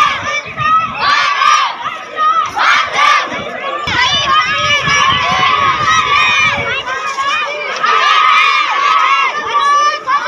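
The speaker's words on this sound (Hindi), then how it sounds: "सामने रेत के जो टीबा है वहां पर देखो कितनी भीड़ है महिलाओं की" A large crowd of women gathered on a sand dune at a martyr's funeral in Barmer, a dense, loud outdoor hubbub of many voices shouting and calling together throughout, with no single voice standing out.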